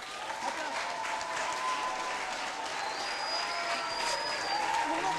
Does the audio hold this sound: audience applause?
yes